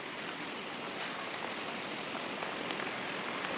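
Steady outdoor rainfall, a dense even hiss of drops falling without a break, with no voices.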